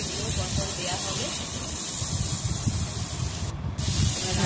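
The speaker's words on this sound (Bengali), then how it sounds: "করলাগুলো এবার এক এক করে ভেজে নেওয়া হচ্ছে কড়াইয়েতে, তারপর আলুগুলো ভেজে নেওয়া হচ্ছে" Bitter gourd and potatoes fry in hot oil in a wok, making a loud, steady hiss close by, with a brief dip partway through before the hiss returns at full strength.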